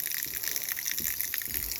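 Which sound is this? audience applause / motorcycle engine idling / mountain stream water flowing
mountain stream water flowing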